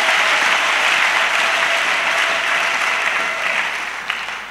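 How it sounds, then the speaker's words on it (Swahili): A church congregation applauds the parents, a loud dense sustained clapping from many hands that fills the room and tapers slightly toward the end. "Tuwachapie makofi"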